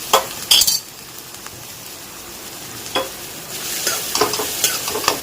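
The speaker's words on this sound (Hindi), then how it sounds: "तेल गरम हो रहा है, तो यहाँ पर ये सारी सब्जियाँ डाल देनी है एक साथ ही" Onion, beans, ginger and garlic stir-frying together in hot oil in a kadai, with bursts of sizzling and scraping stirs, a loud clatter early on, then steady frying hiss building toward the end.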